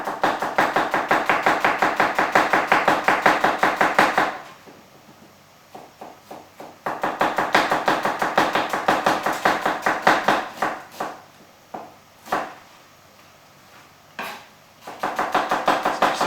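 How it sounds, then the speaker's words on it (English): Steady rhythmic knife strokes slice onions on a chopping board, close and crisp, in runs of fast even cuts broken by short pauses. "I'm just going to slice these down."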